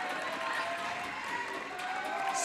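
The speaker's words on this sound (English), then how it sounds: "The Saints crowd is pretty loud" Home Saints crowd at a boys' state basketball 5th place game roars steadily, a dense wash of cheering and clapping filling the gym, with voices mixed in under the noise.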